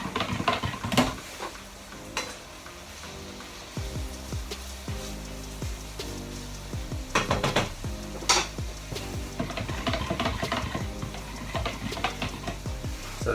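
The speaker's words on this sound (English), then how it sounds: "Gonna get a fork to mix it all up with, to dissolve that Knorr cube" A fork stirs a Knorr stock cube into liquid in a pan or jug, with light repeated metallic scrapes and clinks over a faint background sizzle.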